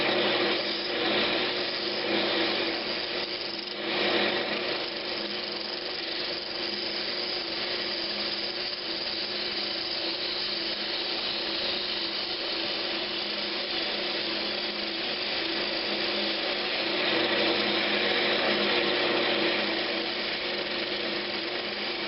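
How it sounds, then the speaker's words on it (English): Brazilian cherry lidded box lid sanded on a spinning wood lathe, a steady loud whirring hiss with a constant motor hum running unbroken throughout. "I'm going to go ahead and sand and finish it before I move on."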